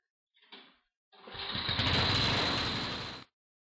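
Forty-year-old John Deere 832 snowblower engine in neutral at three-quarter throttle with full choke: a short pull-cord rasp, then the small engine catches and runs loudly and steadily for about two seconds before cutting off.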